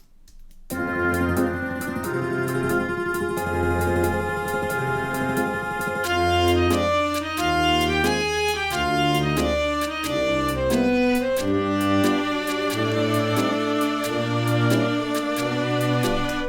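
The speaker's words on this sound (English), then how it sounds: "We get a chaotic, almost Latin flavor groove with a woodblock, a gyro, and a cowbell." Chaotic Latin-flavored groove from Steiner's theme in Final Fantasy IX, with woodblock, guiro and cowbell clicking and scraping over shifting pitched instruments, continuous and fairly loud with no voices.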